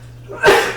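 A single short, loud sneeze bursts out close by during a casual podcast conversation, rising suddenly over a faint steady hum and then trailing off.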